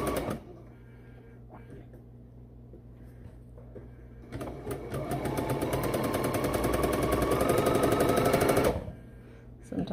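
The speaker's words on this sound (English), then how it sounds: "we're ready to just sew down that other side" A sewing machine stitches down the side of a piece, starting after a quiet pause with a fast, steady mechanical rattle that builds in speed and loudness before stopping near the end.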